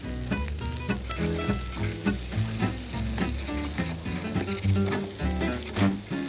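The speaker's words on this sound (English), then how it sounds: "keep an eye on your onions. You don't want them to burn. Give them a little stir every now and then." Onions frying in a pan for tomato sauce, a steady close sizzle broken by frequent scraping stirs and clatters of the utensil against the pan.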